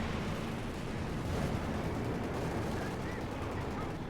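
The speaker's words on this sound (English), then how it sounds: "There you go, P-47's firing all the rockets." A P-47 aircraft fires rockets in Company of Heroes 2, a dense, rumbling barrage of blasts and rapid gunfire layered into a continuous battle roar, with a commentator talking over it.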